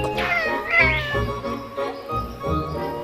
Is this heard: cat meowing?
yes